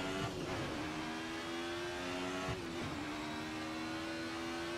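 A 1990s DTM touring race car at Donington Park in a sim racing game. The engine revs up steadily under throttle as a loud, close, continuous drone that climbs in pitch, with a short dip midway.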